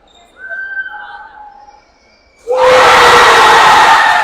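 A crowd at a girls' high school basketball game erupts in loud, sustained cheering and shouting after a quieter stretch with some faint calls and whistle-like tones.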